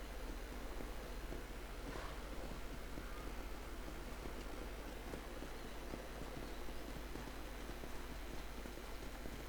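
Steady clip-clop of horse hooves at a riding pace in Red Dead Redemption, over a constant noisy background, fairly even rhythm throughout.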